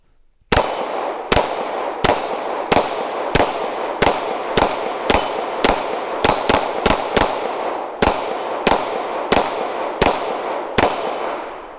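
A CZ 75 SP-01 Phantom pistol fires about eighteen loud, close, sharp shots at a mostly steady pace, with a brief faster cluster midway and a short pause before the final few.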